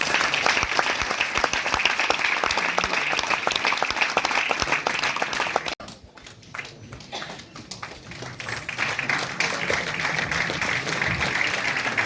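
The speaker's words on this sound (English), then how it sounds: "Please give a big round of applause." An audience at an international physical education conference gives a big round of applause, dense rapid clapping that briefly thins midway, then swells back to full strength.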